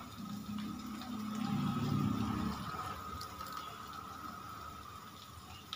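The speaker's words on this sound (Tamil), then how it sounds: "இப்போ நம்ம வந்து தண்ணி ஊற்றிக்கலாம்." Water poured over crushed rusk in a kitchen: a fuller splashing pour that swells for a couple of seconds, then eases into a quieter trickle and faint drips.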